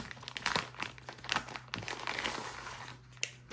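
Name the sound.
unwrapping DJI Mic Mini packaging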